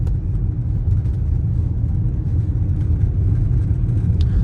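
A 2021 Audi Q8 S-Line with 50,000 miles rolls over a rough road, giving a steady low cabin rumble of road and tire noise with faint interior rattles, continuous and even throughout.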